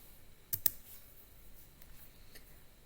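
A computer keyboard is typed on while writing a code comment: two sharp clicks close together, then a few fainter taps, in a quiet room.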